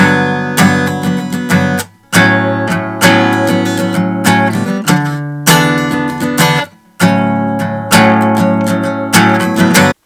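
Acoustic guitar strumming the chorus of a song, full bright chords in steady rhythmic bursts with short pauses between phrases, close and clear with no voice.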